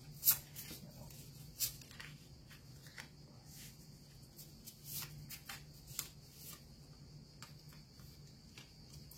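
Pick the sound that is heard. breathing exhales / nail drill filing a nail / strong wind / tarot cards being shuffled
tarot cards being shuffled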